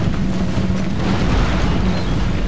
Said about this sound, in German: die Kanonen, die schießen ja wieder sonst wohin